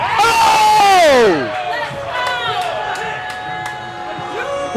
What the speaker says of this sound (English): as you can hear the crowd in the back